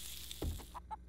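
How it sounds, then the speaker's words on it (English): Chickens in the survival game 7 Days to Die (Undead Legacy mod) let out a couple of short, mid-pitched clucks near the end, fairly faint over a steady low background hum. "the chickens are cute and all, but that little squawking might get on my nerves after a while"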